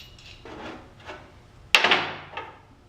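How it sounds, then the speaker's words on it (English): Nut being run down by hand on a coil-over assembly for a Ford Ranger and Explorer conversion, heard as a few faint metallic taps and one sharper clack with brief scraping, close up and quiet. "quickly run down the nut"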